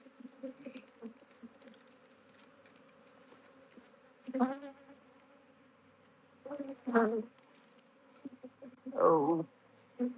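A swarm of honey bees buzzes in a dense, continuous drone outdoors, with louder close bursts as bees fly past the microphone.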